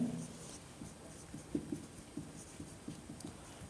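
A pen writes by hand during a Class 10 trigonometry lesson, giving soft, faint scratching strokes and light irregular taps in a quiet room, with no talk over it.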